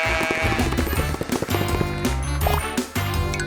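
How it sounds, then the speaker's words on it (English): A sheep bleats several times in a children's farm-animal cartoon puzzle, with close, loud wavering cries layered over steady background music. "A sheep."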